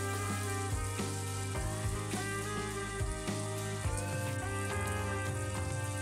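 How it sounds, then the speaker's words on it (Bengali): Sankar fish (stingray) pieces frying in hot oil, a steady, loud sizzle and crackle that runs without a break, with faint tapping and scraping from a utensil now and then. "মাছ একদম লাল লাল করে ভেজে নিয়েছি"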